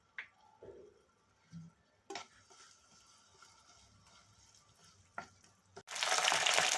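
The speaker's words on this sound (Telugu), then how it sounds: "బెల్లం వేస్తున్నానండి. ఇందులో కొంచెం వాటర్ పోసి పాకంలా పట్టాలి." Jaggery and water heat in a pan, cooking down into syrup for a flattened-rice kheer. Faint close bubbling and a few clinks build to a loud hissing sizzle at the end, with no speech.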